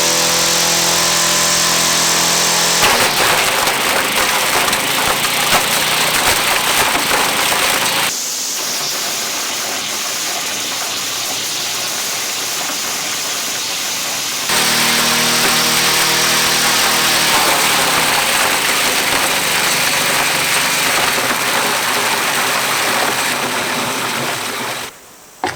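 A blender driven by a lawnmower engine churns lemons, avocado, tea, flowers, beer and a shoe, giving a loud, steady mechanical roar that drops briefly to a lower drone midway before surging back up and cutting off at the end.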